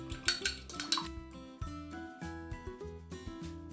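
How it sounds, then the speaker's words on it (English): A whisk stirs milk into icing in a bowl for a giant homemade pop tart, making light repeated clinks and taps against the bowl over steady background music. "And you just want to whisk this up."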